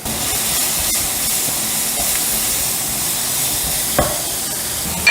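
Finely chopped onions sizzle and hiss steadily in hot ghee, a loud continuous frying sound with occasional scrapes of a stirring utensil.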